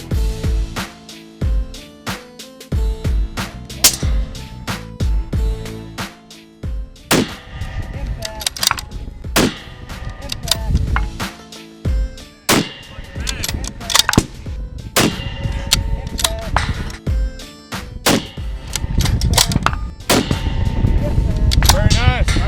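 Rifle shots ring out at a precision rifle series steel match in South Dakota, each followed by the sharp clang of bullets hitting steel targets. The sequence is loud and irregular and runs over a short burst of range chatter.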